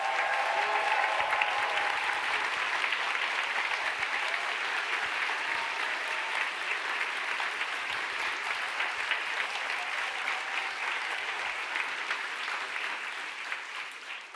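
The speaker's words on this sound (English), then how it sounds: "So, applause for die Verwandlung, Metamorphosis." Sustained applause from an audience at a team presentation event, a dense, steady clapping that fills about fourteen seconds and fades only slightly at the end.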